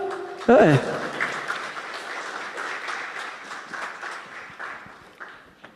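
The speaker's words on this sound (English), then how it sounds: "You can clap, you know." Audience clapping at an essay competition prize-giving ceremony, a steady spread of applause at moderate level with a sharp bump near the start and voices talking over it before it tapers off.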